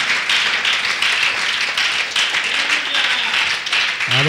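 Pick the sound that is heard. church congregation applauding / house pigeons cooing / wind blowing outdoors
church congregation applauding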